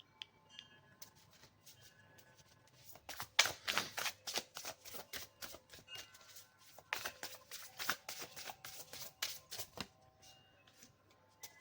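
Tarot cards are shuffled by hand in two bursts of rapid riffling flutters, crisp and close, with quiet pauses before and between.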